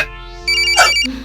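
A mobile phone ringtone rings out in a short burst of bright electronic tones, loud and close, with a brief sharper chirp partway through before the melody continues.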